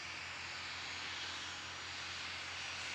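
ATR-72 turboprop airliner climbing away, heard as a faint, steady distant engine hum with no talk.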